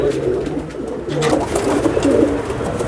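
Fancy-breed pigeons coo loudly and close by, overlapping throaty warbling calls filling the whole stretch.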